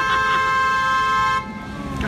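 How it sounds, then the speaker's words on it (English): A car horn blares in New York City street traffic, one long sustained honk held loud and close for over a second before cutting off, leaving road noise and faint voices behind. "stop honking at everything"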